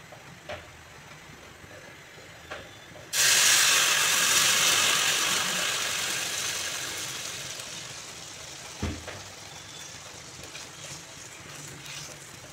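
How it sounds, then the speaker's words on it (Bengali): A sudden loud sizzling rush bursts in as hot water is poured into frying rice on a high gas flame after a few quiet seconds of low background noise, then slowly fades but keeps hissing to the end. "এখন গ্যাসের ফ্লেমটাকে বাড়িয়ে আমি এতে গরম জল দিয়ে দেব।"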